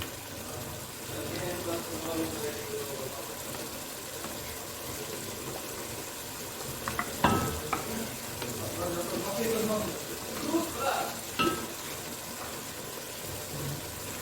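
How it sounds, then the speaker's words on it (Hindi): A tomato and yogurt mixture cooks in a pan for chicken biryani, giving a low continuous sizzle with a few louder stirring knocks, partly under speech. "दही डाल के इसको अच्छे से पकाना है।"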